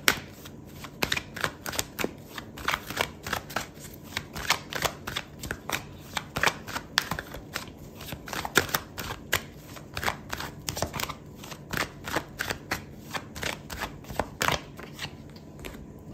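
Tarot cards are shuffled close up in a long run of quick, crisp riffling snaps and flicks, repeating in bursts with short pauses and no talking.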